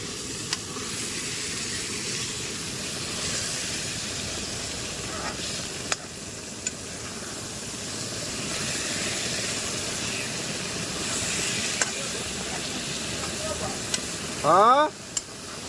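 Meat sizzles in a hot pan with a steady, soft frying hiss that runs throughout, broken by a few faint clicks and one brief louder burst near the end.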